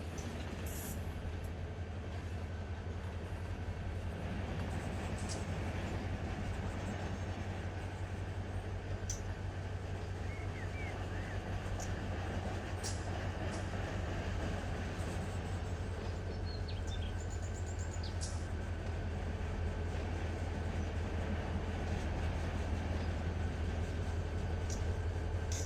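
Freight train cars being shoved in Run 8 Train Sim, a steady loud rumble of rolling wagons with a constant engine drone and occasional faint squeals, no talk.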